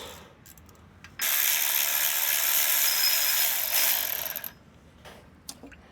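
A hand ratchet on a Jeep TJ with a 4.0 engine works a stubborn bolt loose during a cooling system job. Its rapid clicking runs loud and steady for about three seconds, then stops, followed by a few faint clinks.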